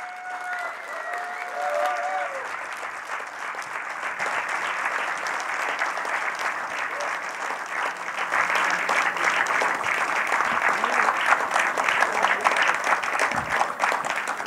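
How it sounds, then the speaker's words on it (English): A room of listeners at an evening poetry and storytelling event applauds at length, the clapping swelling louder and denser partway through; a few brief voices and a faint tone come in near the start. "Give yourselves a big round of applause."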